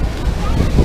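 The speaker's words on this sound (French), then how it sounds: "Il y a beaucoup de vent." Strong wind buffets the microphone during a boat ride toward Niagara Falls, a loud low rumbling gust over water noise, with a voice speaking through it.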